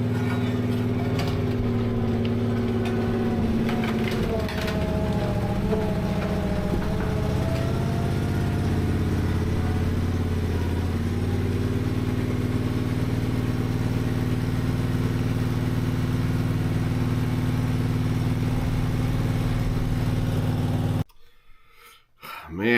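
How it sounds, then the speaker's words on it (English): A newly acquired roller's engine runs steadily and loudly at a constant idle-like drone, close by, holding for about twenty seconds before cutting off abruptly near the end; no talking. "got the new roller going in the new trailer"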